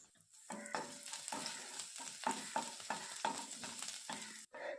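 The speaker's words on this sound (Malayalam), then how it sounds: "കടുക് പൂർണ്ണമായും പൊട്ടിത്തീരുമ്പോഴേക്കും ഇതിലേക്ക് 1 ടീസ്പൂണിന്റെ 1/3 ഭാഗം ഉഴുന്നുപരിപ്പ്, 1 ഉണക്കമുളക് നുറുക്കിയത്" Mustard seeds, urad dal, dried chilli, ginger and garlic frying in hot oil in a pan, a steady close crackling sizzle with repeated stirring scrapes, no talking.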